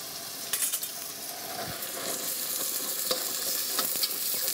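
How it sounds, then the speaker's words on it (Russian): Food fries in a pan with a steady bright sizzle and occasional utensil clinks and stirring sounds, close and moderately loud, with no talking. "Обжариваем."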